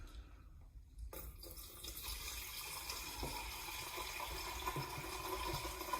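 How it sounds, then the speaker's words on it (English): Water poured into a Pinter home-brewing keg up to the fill line for an IPA brew: a soft, steady rushing stream of liquid that starts abruptly and continues evenly, fairly quiet, with no voices. "Add water to fill line."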